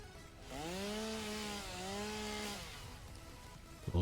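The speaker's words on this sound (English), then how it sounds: "Careful, he's got a chainsaw!" A chainsaw revs while felling trees in the factory game Satisfactory, a sustained buzzing whine that dips slightly in pitch midway, then cuts off.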